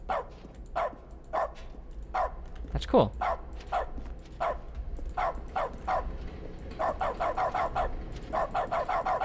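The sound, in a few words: dog barking in dog mode, video game The Stanley Parable: Ultra Deluxe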